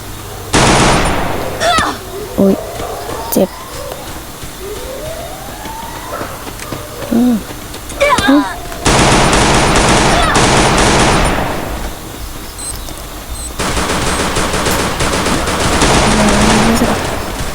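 Gunfire in a Free Fire 4v4 match crackles in short bursts at first, then long sustained automatic volleys dominate, while someone talks and exclaims over the shooting.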